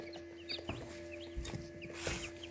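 Newly hatched incubator chicks, about sixty from seventy-two eggs on the second day, give high repeated peeps and cheeps close by, alone with no talk.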